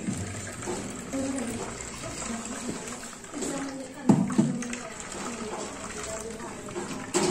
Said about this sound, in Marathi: दोन दोन नळाचं पाणी काढत आहे